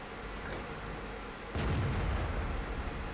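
A tank cannon fires in a tank battle video game, a low booming blast that jumps up abruptly midway over a rumbling background, fairly faint and without talk.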